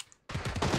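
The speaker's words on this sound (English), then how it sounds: "Someone's still shooting." Gunfire in the battle royale game PUBG during a three-man first-person squad match on the Sanhok map: after a brief quiet gap, a dense burst of repeated shots starts abruptly and keeps going loud and steady to the end.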